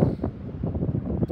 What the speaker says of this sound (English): A little windy this morning.